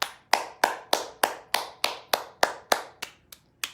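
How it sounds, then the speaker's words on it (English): Two hands clap brightly in an even, close rhythm, about a dozen crisp sharp claps with quick decays, the last few slightly softer. "Back of the hand, the fingers, and then clapping brightly."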